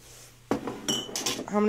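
Dehydrated onion pieces going into glass mason jars make a short series of light clinks and rattles, close and fairly loud, with no one talking.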